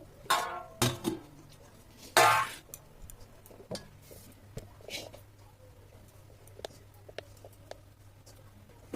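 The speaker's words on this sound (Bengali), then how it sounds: "এবারে খুলে আরও একটু হাত দিয়ে ভালো করে মেখে নিচ্ছি" Palm fritter batter being mixed by hand in a bowl, with scattered clinks and taps against the bowl, a couple of louder knocks early on, then soft squelchy handling.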